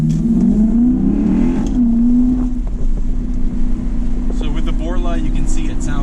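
A 2008 Lexus IS F on a back road accelerates hard, its engine note rising loud and close from inside the car, then settling into a steady drone, with talking over part of it.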